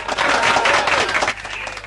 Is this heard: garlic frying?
no